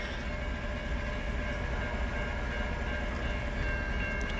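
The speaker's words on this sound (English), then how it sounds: "There's a CSS eastbound train coming in Emmett, Michigan." A CSX eastbound freight train nears a gated crossing in Emmett, Michigan, a loud steady roar of rolling wheels and rumbling cars filling every moment, with faint horn tones riding on top.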